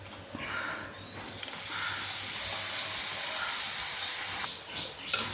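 Papadam crackles and sizzles as it fries in hot oil in a pan, a steady broadband hiss that swells loud for about three seconds and then drops back, with no talking.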